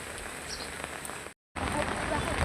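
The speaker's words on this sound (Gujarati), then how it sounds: "વરસાદ ચાલુ છે" Rain falling in a village, a continuous close hiss of drops on surfaces that drops out abruptly for a moment before resuming just as steadily.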